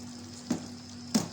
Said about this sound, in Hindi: अब मैं इसको हल्के हल्के तरीके से हिलाती जाऊंगी इस तरीके से